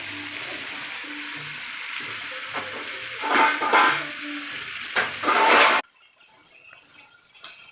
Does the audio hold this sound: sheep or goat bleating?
no